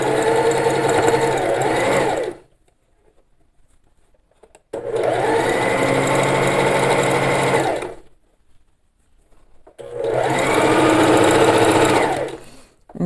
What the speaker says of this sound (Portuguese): E agora eu vou arrumando aqui, puxando aqui o viés para acertar na borda aqui e vou passando a costura.